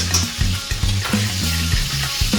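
A spoon or whisk stirs waffle batter in a bowl in a home kitchen, producing repeated rhythmic scraping and sloshing strokes, close and loud with no talking.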